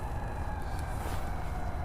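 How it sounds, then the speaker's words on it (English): Emergency vehicle sirens sound on a cold, dark night near a railroad switching yard, wailing steadily at middling distance over a dense, rumbling background of traffic and yard noise. "We got sirens in every direction."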